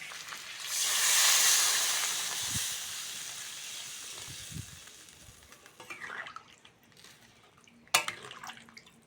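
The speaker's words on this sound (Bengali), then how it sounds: "এবার জল দিয়ে দেবো" Water poured into a simmering pan of kochu pata vorta sends up a loud hissing sizzle that swells and slowly fades, followed by softer bubbling, stirring scrapes and a sharp clink near the end.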